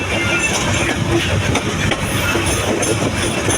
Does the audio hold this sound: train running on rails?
yes